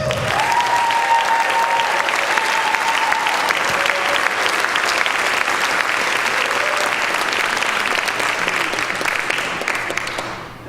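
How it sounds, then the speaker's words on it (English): An audience at a circus band concert gives the band leader a loud, sustained round of applause that stays dense and even for about ten seconds, then thins slightly at the end. "Let's have a huge round of applause for the man that brought together a ragtag group of performers"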